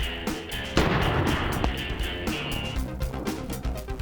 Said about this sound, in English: I'm going to let you shotgun him